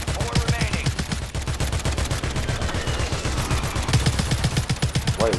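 Video game gunfire: a steady, rapid stream of automatic shots, evenly spaced and fairly close, continuing for several seconds with little pause.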